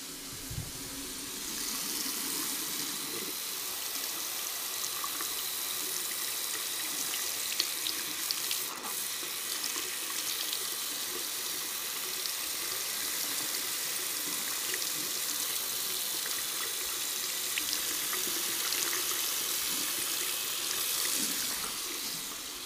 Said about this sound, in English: got the Omega Badger brush right there. Just gonna soak it in hot water.